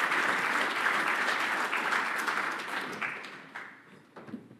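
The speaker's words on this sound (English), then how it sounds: "So give them a round of applause." Conference audience applauding at closing remarks, a sustained dense burst of clapping that tapers off toward the end, heard alone.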